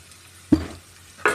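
Dry fish drops into hot oil and masala in a pan, giving a short burst of sizzle followed by a second brief crackling splash, near and fairly loud.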